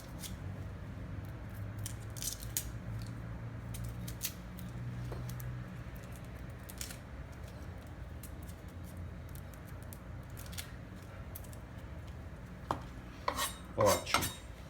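A kitchen knife trims the tip of an onion and peels off its skin on a board, with scattered light scrapes, taps and clicks that grow busier near the end.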